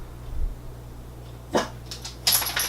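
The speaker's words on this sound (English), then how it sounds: "don't bark, please, I'm on the last item" Dog barking indoors near a woman doing a skincare product review, with a couple of short, sharp barks and a whimper over a low room hum.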